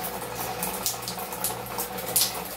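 Water runs and trickles steadily from a Lorenzetti Futura electric shower just after use, a continuous close splashing hiss with a few brighter drips.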